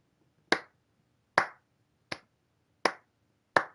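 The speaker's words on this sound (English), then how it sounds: "I don't know if y'all could tell, but that was me clapping." Five sharp, close hand claps spaced roughly evenly with short pauses between them, each a crisp snap that dies away quickly, with no voices.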